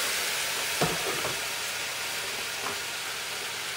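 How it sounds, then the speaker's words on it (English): Sauce poured onto caramelized onions in a hot pan for huevos rancheros sets off a sharp sizzling burst, then settles into a steady, soft frying hiss with a few small pops. "then you add the sauce to the onions"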